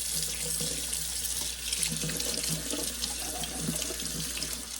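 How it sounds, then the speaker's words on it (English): Tap water runs steadily from a kitchen faucet over canned beans in a colander, a continuous close splashing wash for the whole stretch with no talk. "we're going to run the water over the beans until the water runs through clear"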